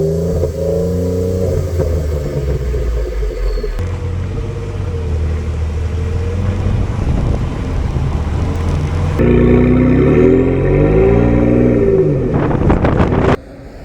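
A Ford F-150 EcoBoost pickup with a new aftermarket exhaust gives a steady, fairly loud engine drone that swells and revs in stages before cutting off abruptly near the end.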